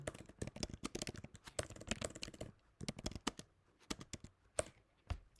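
Rapid, uneven clicking of computer keys in quick bursts, close and fairly quiet, with short pauses between runs of typing.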